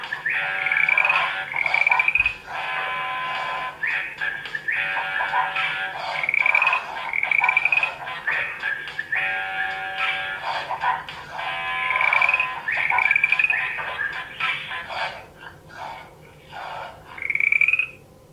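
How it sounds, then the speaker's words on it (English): A touch-activated sound book plays a recorded frog croaking in repeated bursts, each a rattling croak followed by a brief pause, recurring about every few seconds against a quiet background. "Don't tickle the frog, you might make it croak."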